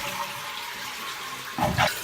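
A toilet fitted with a new fill valve and flapper is flushed, with a steady rush of running water followed by a louder gurgling surge.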